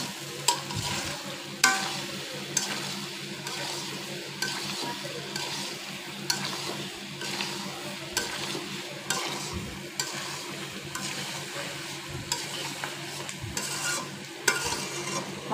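Taro being stirred with spice paste in a frying pan, with a steady sizzle of frying under repeated scraping strokes of a spoon against the pan, alone and close.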